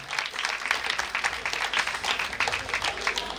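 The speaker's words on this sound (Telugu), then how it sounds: "గట్టిగా చప్పట్లు కొడుతూ దేవుడి నామాన్ని మహిమపడతాం మనందరూ కూడా" A church congregation claps together during a Christmas service, a dense ongoing patter of many hands, moderately loud and slightly distant with no talking.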